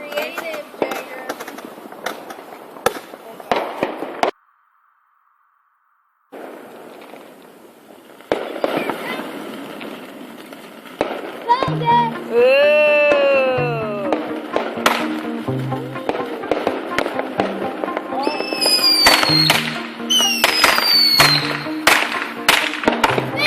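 Family fireworks on the Fourth of July: repeated sharp bangs, crackles and whistling rockets rising over 23 seconds, loud and close, with a brief quiet gap early and people talking and reacting throughout.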